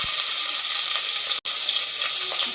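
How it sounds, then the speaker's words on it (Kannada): Onions hitting hot oil and ghee in a pan give a loud, steady hiss of frying, close by, with a split-second break partway through. "ಸೊ ಈಗ ಈರುಳ್ಳಿ ಹಾಕ್ತಾ ಇದ್ದೀನಿ ಇದಕ್ಕೆ"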